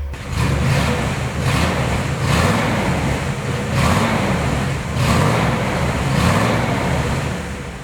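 Engine of a 1957 Ford Thunderbird roadster idling and revving close by, a loud rumbling motor rising and falling in regular surges.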